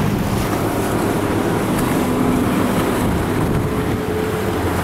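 A motorboat heads out into deep Atlantic Ocean waves off Tenerife, its engine droning steadily and loudly throughout, mixed with rushing water and gusting wind buffeting the microphone.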